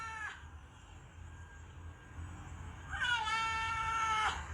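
A cat meows twice, a short sharp call followed after a pause by a long, drawn-out wavering meow, fairly close and clear over a quiet background.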